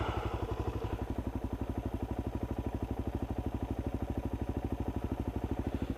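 A motorcycle engine idles very low and rough, close by, with an even, slow, loping thump that sounds near to stalling.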